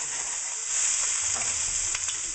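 Pork for Southwestern lime pulled pork sizzles steadily in a hot pan while being stirred, a continuous close frying hiss with faint scraping, no talking.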